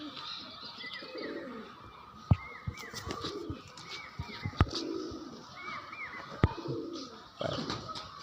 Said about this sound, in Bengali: এটা অনেক পুরানো ব্লাড লাইনের পায়রা।